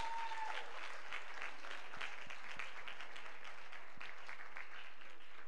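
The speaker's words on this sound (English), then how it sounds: "Let us give them another round of applause." Guests at a youth programme send-off ceremony give a sustained round of applause, a broad, even crowd of clapping hands heard from across the hall, continuing without pause.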